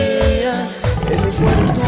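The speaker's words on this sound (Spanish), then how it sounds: "Que ruge el tigre" A loud tiger roar sound effect dropped into a cumbia song, a rough growling roar that rises and repeats over the music.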